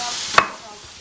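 A single sharp knife chop on a cutting board while slicing pizza toppings such as cucumber, one crisp close tap against a steady kitchen background hum.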